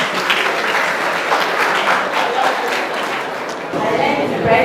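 An audience claps steadily at a school talk about breast cancer, a dense wash of applause holding for several seconds with a faint murmur of crowd noise beneath it.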